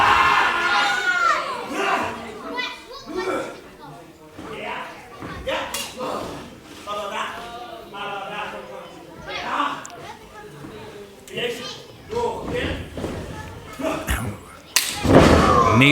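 Crowd at a live Wrestleforce wrestling show in Selsdon, shouting and cheering with children's voices among them, mixed with thuds and slams from the ring, under steady commentary talk, with a loud burst near the end.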